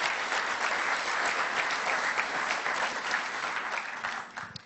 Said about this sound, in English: just a round of applause for Daniel's work tonight